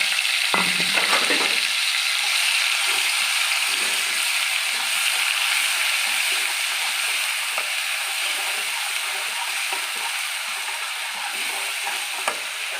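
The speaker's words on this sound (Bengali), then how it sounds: "এবার ওই তেলেই আমি আদা রসুন কাঁচা লঙ্কা দিয়ে দিলাম" Ginger, garlic and green chilli dropped into hot oil left over from frying fish, giving a loud, dense, continuous sizzle close up, with a brief clatter near the start.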